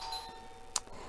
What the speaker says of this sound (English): wouldn't you know, I put my video on and he rings the doorbell.